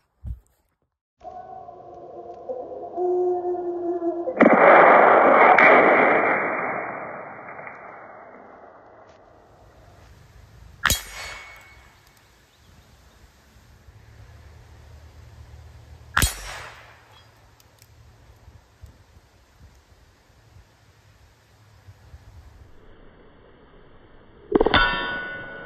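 Air gun shots ring out as sharp, loud metallic clangs, three spaced impacts with ringing tails, likely striking a metal target, following a burst of louder noise early on.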